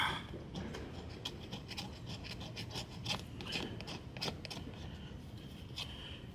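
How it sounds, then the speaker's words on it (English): A cheap, dull knife is ground sharp on a powered sharpening tool, producing a steady gritty rasping and rubbing sound with repeated strokes, fairly close and continuous with no talking. "I just show you how to sharpen it, and it'll be a very sharp, dangerous tool"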